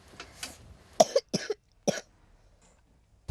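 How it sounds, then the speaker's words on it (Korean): A child coughs in winter in a poor household in Mongolia: a few scattered coughs early, then a cluster of harsh coughs and throat clearing near the middle, with quiet gaps and a final cough at the end. "겨울이 되면 기침이 끊이지 않는 아이들."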